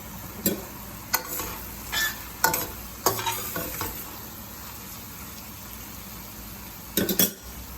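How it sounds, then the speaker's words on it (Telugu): Egg curry with cooked tomatoes, coriander powder and red chili powder is stirred in a frying pan, a spoon scraping and clinking against the metal in a few short bursts over a low, steady sizzle. "ఇందులో 1 స్పూన్ ధనియాల పొడి, 1 స్పూన్ కారము వేసుకొని తిప్పుకోవాలి."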